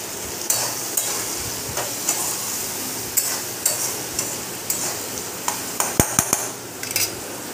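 Vegetables seasoned with salt and turmeric fry in a pan for a vegetarian Malabar spinach dish, a steady close sizzle punctuated by repeated sharp spatula scrapes and taps as they are stirred, with no talk.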